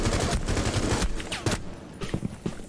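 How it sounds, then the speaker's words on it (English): Sniper fire from a quick scope in the video game Rainbow Six Siege: loud, sharp shots crack over dense game noise, with a few more distinct reports toward the end. "I'm going to try to quick scope in and one shot them in the head"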